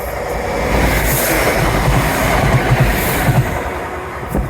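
A train runs past along the sea wall at Teignmouth, a steady close rumble of wheels and carriages with faint clickety-clack filling the whole stretch at constant loudness.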